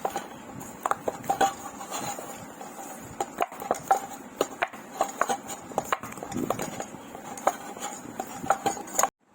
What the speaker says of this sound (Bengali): ভালোভাবে সাদা তেল দিয়ে মেখে নেব।